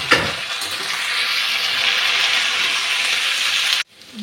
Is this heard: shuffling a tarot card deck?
no